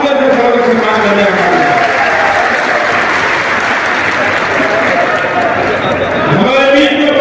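A large rally crowd gives steady, loud, sustained applause to welcome Uttar Pradesh Chief Minister Yogi Adityanath. The clapping fills the whole stretch without a break.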